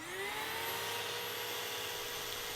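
An Advance ES300 XP carpet extractor runs with a steady whining motor hum, a rising pitch as it spins up at the start, then an even, continuous drone close by.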